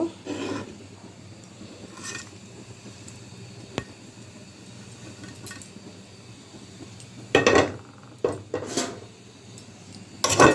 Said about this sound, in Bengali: এখন আমি দিয়ে দিলাম মাছটাও দিয়ে দিব